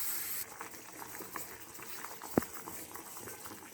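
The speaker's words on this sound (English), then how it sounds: "Let it get cooked in the sugar syrup for about 8 to 10 minutes." Rasgullas cooking in sugar syrup in a covered pot, a faint, steady bubbling simmer with one brief sharp tap partway through.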